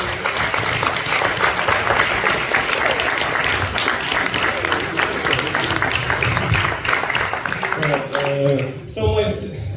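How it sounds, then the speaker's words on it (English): Sustained audience applause for a film director at the Marrakech International Film Festival, dense and steady for about eight seconds before tapering off as a voice begins speaking near the end. "Can you give him a round of applause?"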